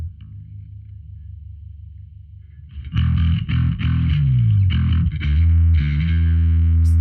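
Electric guitar through an Alpha Omega distortion pedal on its alpha side, a quiet low hum first, then loud, thick, deep distorted chords and bends ringing steadily for several seconds.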